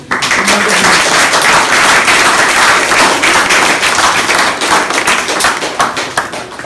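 A loud, dense crowd applause at a community society's installation ceremony in Bas-Limbé, many hands clapping continuously and close, tapering a little near the end without speech.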